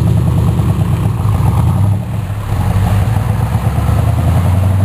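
A hot rod's engine rumbles steadily at a loud, close idle, a deep continuous throb that dips briefly before settling back into the same heavy drone.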